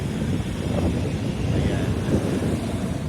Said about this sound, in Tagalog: Malamig ang hangin, hindi mainit.